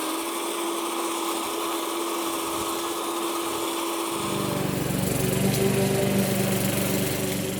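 A rotary lawn mower runs with a steady engine drone that grows louder and fuller about halfway through, continuing without pause to the end.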